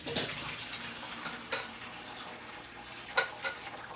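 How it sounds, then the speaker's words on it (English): Hot water and cooked pasta poured out to drain in a home kitchen, giving a faint, steady watery rush with a few soft splashes and clinks from the pot, and no voices. "Drain my pasta"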